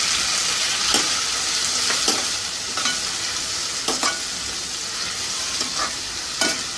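Chopped tomato and onions frying together in a pan for ragda patties, a steady sizzle under repeated rhythmic stirring strokes roughly once a second, close and fairly loud.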